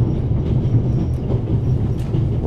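Train interior rattling along the rails in The Raven video game set on the Orient Express in the Alps, a steady, loud low rumble with faint clickety-clack.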